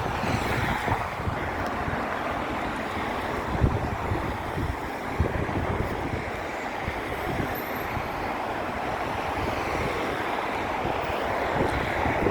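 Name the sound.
strong wind outdoors on a walk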